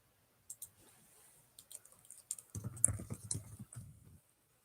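Quiet clicking of keys on a computer keyboard, irregular bursts of typing with short pauses between, close by.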